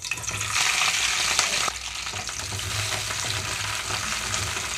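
Halved green chillies fry in hot oil in a pan, a steady broadband sizzle that is loudest early, then settles into a continuous crackle with occasional pops.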